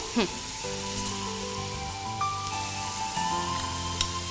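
Onions sautéing in a pan in a home kitchen give off a steady, close sizzle and hiss, with people talking over it throughout.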